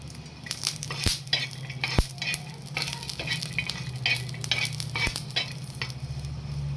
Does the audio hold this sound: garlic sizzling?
yes